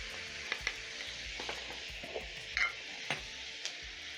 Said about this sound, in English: using my spatula, I'm going to break down the meat as it cooks